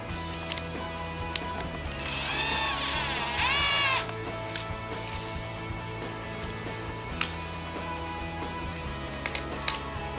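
A power drill with a 5.5 mm bit bores into a pipe, whirring up in a high, rising whine for a couple of seconds, then stops, with a steady mechanical hum and occasional clicks around it.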